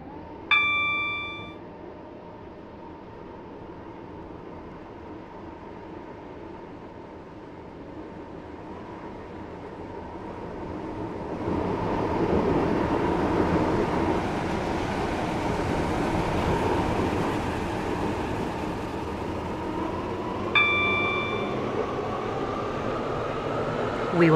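A passenger train on a Stepford Connect service in a video game rumbles steadily along, the running noise swelling midway, with bright chimes at the start and again near the end.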